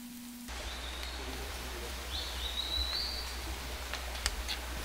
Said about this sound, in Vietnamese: Thiên nhiên yên tĩnh gần như tuyệt đối, không có gì ngoài những tiếng chim.